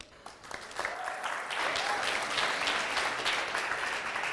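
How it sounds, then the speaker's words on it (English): Applause from a conference audience at a tech demo event builds quickly from a few scattered claps into a steady, moderately distant wash of clapping that continues throughout. "Round of applause one more time."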